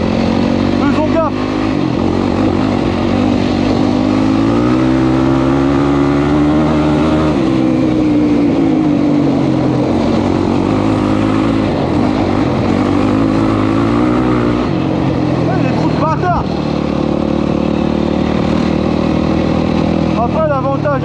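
A quad bike engine revs and drones steadily while riding off-road over rutted trails, loud and close throughout, pitch rising and falling with throttle, with someone talking over it.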